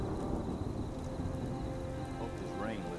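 Rain and thunder in the video game Fallout 4: a continuous soft rain hiss with low rolling thunder rumbling underneath, fairly quiet, with no talking.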